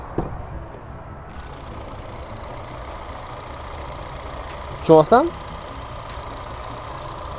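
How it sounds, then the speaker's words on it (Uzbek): A Kia Sonet engine idles steadily with a low, even hum, while a person briefly speaks partway through. "Ana endi Kia Sonet'ni hozir motorini ishga tushiramiz."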